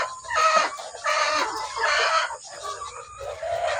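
Chickens and a rooster clucking and crowing on a farm just after feeding, repeated overlapping bursts of fowl calls at close range with no talking.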